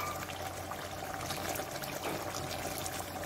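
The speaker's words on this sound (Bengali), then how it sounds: "নারকেলের দুধটা দিচ্ছি।" Coconut milk pours into a pan of chicken with coconut-poppy paste, a soft continuous liquid stream over a faint sizzle and low hum.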